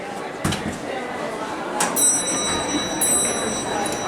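An Otis traction elevator's arrival bell chimes in a Neiman Marcus store in Houston, Texas, giving two clear rings about a second apart with sustained ringing tones over faint background noise.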